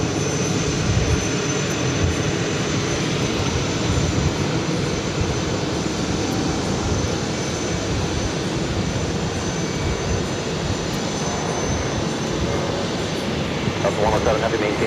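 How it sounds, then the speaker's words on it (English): A Delta heavy jet going around on runway 22 left at JFK, its engines a broad continuous roar at moderate distance, with a voice talking over it throughout. "Delta Heavy now going around at 22 left"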